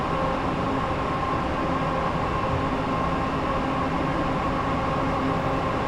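A Class 350 electric train runs along the West Coast Main Line in On Track Simulation, giving a loud, steady rumble of wheels and traction hum that continues throughout with no talking.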